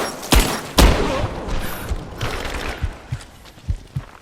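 Gunfire in Rise of the Tomb Raider, a few sharp close shots followed by scattered quieter bursts and thuds spread across a few seconds, alone without talk.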